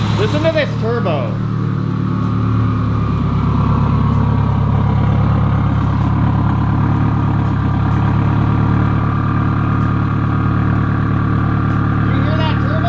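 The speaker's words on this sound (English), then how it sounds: "You hear that turbo?" A Subaru WRX with an STI engine swap sits idling, its turbo whine layered over a steady, close engine rumble that holds evenly throughout, with a faint voice briefly near the start.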